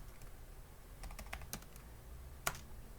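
Quick bursts of keystrokes on a computer keyboard while typing a show command for a Cisco router interface, light clicks in a short cluster with one louder tap near the end, in a quiet room.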